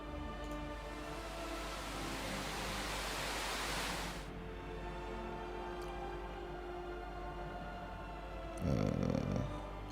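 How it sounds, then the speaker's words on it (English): Brown noise from a noise generator preset, a steady soft rushing hiss that shifts and thins after about four seconds, with a brief louder thump near the end. "Get that brown noise, dude."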